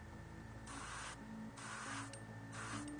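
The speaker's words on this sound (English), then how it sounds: "And just spray down in one direction" Airbrush spraying paint onto a Space Wolves miniature, three steady bursts of airy hiss starting and stopping in even passes, close and moderately loud with a faint low hum beneath.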